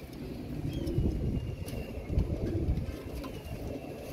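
Pigeons kept as a hobby coo in low, soft, overlapping calls close by, a steady murmuring texture with light rustling and no talking.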